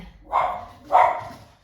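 A dog gives two sharp, close barks about half a second apart, clear against a quiet indoor background.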